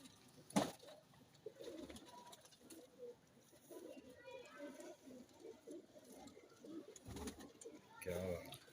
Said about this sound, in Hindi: क्या बड़े अमीर कबूतर हैं यार।